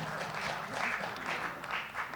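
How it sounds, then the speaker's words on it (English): An audience at a public event claps in a steady, dense round of applause lasting a couple of seconds, moderately loud with no talking over it. "round of applause"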